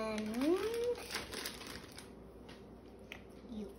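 Close crinkling of foil as Hershey Kisses chocolates are unwrapped, soft rustles and crackles under a voice, which speaks at the start and briefly near the end.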